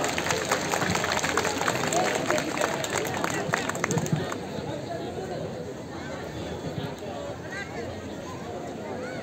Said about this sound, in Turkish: Evet, şimdi çok güçlü alkışlarınızla